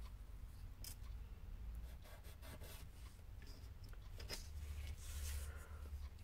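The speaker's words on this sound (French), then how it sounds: "Bon, on va découper comme ça." Scissors cutting paper for a Christmas craft, a close series of crisp snips and rustling paper over a low background hum, with no talking.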